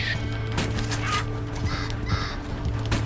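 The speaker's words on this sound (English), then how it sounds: "Oh, that's a crow or something like that." A crow caws repeatedly in the outdoor wilderness of Red Dead Redemption 2, a few harsh calls over a steady low ambient hum with no talking.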